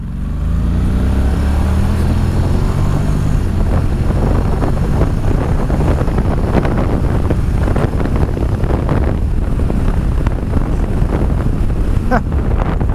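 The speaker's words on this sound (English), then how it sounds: "I'm going to brake and then I'm going to accelerate fully out of here." A Honda NM4 Vultus motorcycle accelerating hard from a stop, its engine note rising steadily under heavy wind buffeting on the microphone, loud and continuous throughout.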